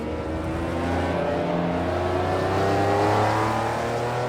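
A race car engine in a racing sim game drones loudly and steadily, rising gradually in pitch as it accelerates through the gear without a break.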